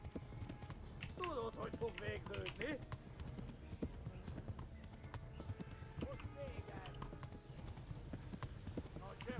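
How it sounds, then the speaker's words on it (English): Horse galloping in the medieval open-world game Kingdom Come: Deliverance, a steady fast clip-clop of hooves running throughout at close range, with game sounds and shouting voices over it. "And my horse is running low on stamina"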